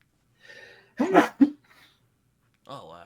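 A single sharp sneeze bursts out between short stretches of conversation, with a voice resuming right after.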